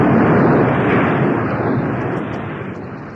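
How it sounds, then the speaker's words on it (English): A heavy, loud rumble of heaving ground and a rolling stone in a fairy-tale cave scene, dense and roaring from the start and slowly easing off over a few seconds, with no voices. "The ground heaved and the stone rolled back, leaving Aladdin trapped in the cave."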